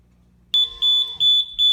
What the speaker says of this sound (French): Nous allons arrêter l'alarme sonore